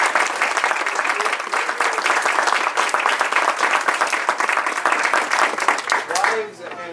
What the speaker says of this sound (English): let's get a round of applause for Mrs.